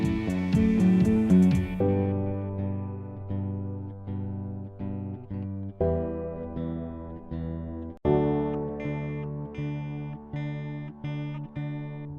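Song ending in a home mix with the bass taken out: electric guitar with effects and chorus-like shimmer rings out alone over sustained harmonic layers, steady chords repeating in even strikes at close, full level.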